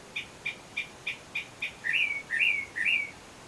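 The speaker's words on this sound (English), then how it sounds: "This has got to be the loudest bird in the universe." A single bird sings loudly at night in Sylmar, giving six short, evenly spaced chirps followed by three longer, richer whistled phrases, close and clear against a quiet background.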